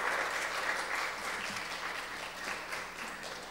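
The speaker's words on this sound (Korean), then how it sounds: "영광의 박수 올려드리도록 하겠습니다." Church congregation applause, a dense and continuous clapping from a large crowd, heard steadily throughout without pause.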